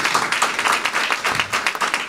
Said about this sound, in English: So we applaud that.